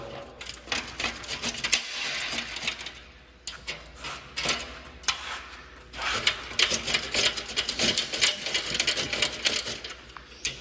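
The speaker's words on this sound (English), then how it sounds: "you can see it just slowly breaks each little spot weld" A drill or spot-weld cutter grinds through the spot welds on a car chassis, producing close, loud, rapid rattling bursts that stop and restart repeatedly, with short pauses between cuts.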